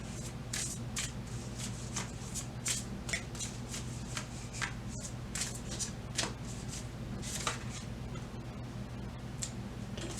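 Tarot cards are shuffled by hand with a string of crisp riffling snaps and flutters at an irregular pace, close and fairly quiet over a low steady hum.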